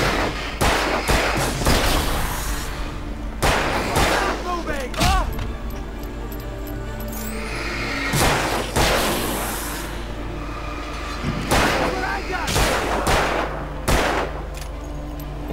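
Repeated bursts of gunfire in the video game Alan Wake, loud and close, come in irregular clusters of sharp shots with ringing echoes, while someone talks over the action.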